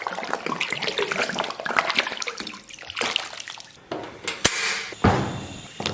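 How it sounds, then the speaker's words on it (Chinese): Cooking wine splashes into a pot of water holding two very large pork hocks being blanched, making a close, gurgling pour followed by a few sharp clinks and a brief rush of liquid. "然后咱们给锅里边稍微来点料酒"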